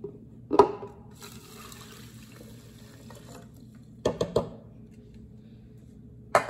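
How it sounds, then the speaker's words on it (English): Cold water poured into a drip coffee maker's reservoir, a steady low trickle running for several seconds with a few short clunks and splashes as the container is handled, quiet and close. "now I got my water in here"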